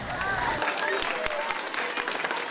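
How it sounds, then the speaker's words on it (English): Students entering a middle school cafeteria are greeted with applause, a dense, continuous patter of clapping from a crowd, with voices mixed into the noise. "receiving applause when they enter the cafeteria"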